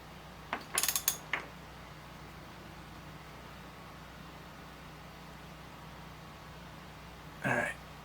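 A wrench tightens a bolt while tie rods are replaced on a Mercedes ML55 AMG, giving a short burst of close ratcheting clicks, then quiet, then one more brief ratchet burst near the end.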